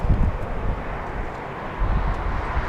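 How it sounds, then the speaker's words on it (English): An Embraer E175 jet lands crabbed sideways in a crosswind at LAX, heard as a broad, gusty roar with rumbling swells and no talk over it. "Little E175, a little sideways there."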